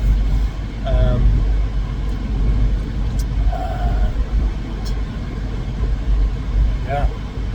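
A steady low rumble fills a car's interior while driving, road and engine noise droning continuously with faint passing sounds and someone talking over it.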